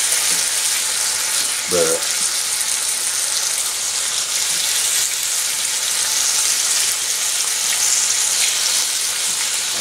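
Bacon fries in a pan with a steady bright sizzle and crackle throughout, close and fairly loud, with one brief spoken word near the start.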